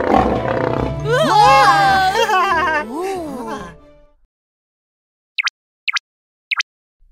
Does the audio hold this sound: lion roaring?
yes